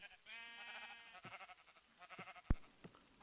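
A sheep in the Minecraft Better Than Wolves mod gives one clear, wavering bleat, followed by a few soft game clicks and taps.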